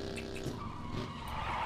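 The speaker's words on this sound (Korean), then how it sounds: "차소리 차소리." A car in the PUBG video game drives with a steady engine roar while its tires skid and squeal continuously, fairly close and moderately loud throughout.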